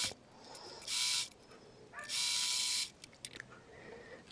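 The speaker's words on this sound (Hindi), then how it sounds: "बट मैं यहाँ पक्की सिलाई लगा रही हूँ।" A sewing machine stitches a blouse band in two short bursts of steady mechanical whirring, clearly audible against a quiet background with brief pauses between runs.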